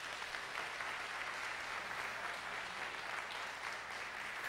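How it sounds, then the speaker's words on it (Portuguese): A church congregation applauds the Lord, steady clapping from many hands filling the hall at an even level throughout, with no voices standing out. "Dê um aplauso ao Senhor"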